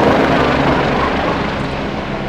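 Firefighting helicopter shuttling water to a burning building near a lagoon, a loud, continuous rotor and engine roar with wind rumble, steady throughout with no talk.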